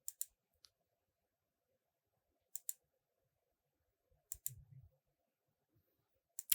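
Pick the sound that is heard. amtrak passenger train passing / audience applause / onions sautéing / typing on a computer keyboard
typing on a computer keyboard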